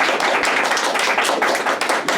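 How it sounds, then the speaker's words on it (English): A small audience claps for FBCS Middle School Principal Jennifer Grieve at a school event, a dense, steady patter of hand claps that stays loud and even throughout with no talking over it. "a round of applause for our guest, FBCS Middle School Principal Jennifer Grieve"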